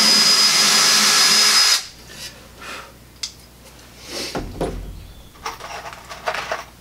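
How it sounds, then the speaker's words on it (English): Power drill pre-drilling screw holes in a wooden beehive floor: a loud, steady whine for under two seconds, cutting off abruptly and leaving quieter handling clatter, knocks and shuffling close by. "So we just pre-drill that down."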